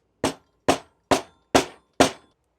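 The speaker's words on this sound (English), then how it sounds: "we're just gonna have to hammer all these in" Bolts are hammered into a bicycle part with five sharp, evenly spaced metallic strikes, each ringing briefly, loud and close in an otherwise quiet space.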